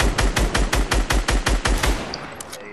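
Rapid SMG burst in a video game, about a dozen evenly spaced close shots in quick succession, then a couple of faint trailing clicks as it stops.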